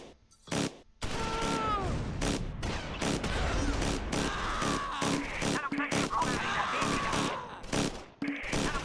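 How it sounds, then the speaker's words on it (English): MG42 machine guns firing in Close Combat IV, a WWII strategy game, with loud, dense bursts of gunfire and booms packed across the span, broken by brief pauses, along with short whistling tones. "Those MG42s are just going crazy."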